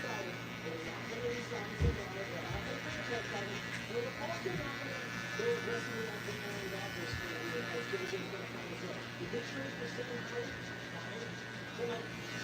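An electric hair clipper runs with a steady buzz while trimming around a haircut. A soft voice is heard underneath now and then.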